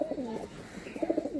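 An Andhra pigeon coos softly at close range in two short throaty bursts, a quiet repeated burbling call with a brief pause between.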